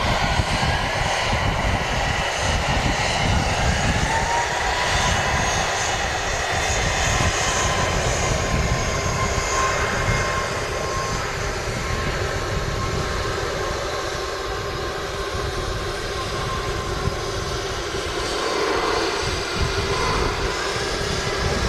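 Jet airliner engines rumble and roar steadily at Manchester Airport, with airliners such as an A330 and an A321neo nearby, a loud continuous broadband drone with no talk.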